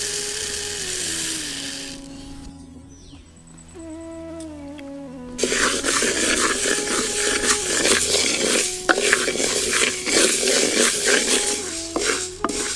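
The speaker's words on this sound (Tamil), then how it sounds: "இப்ப நம்ம எடுத்துக்கிட்ட நரிப்பயிரை வறுக்க ஆரம்பிச்சிடலாம்" Moth beans dry roast in a pan, starting quiet, then a dense, continuous scraping rattle as the beans are stirred and tossed against the metal.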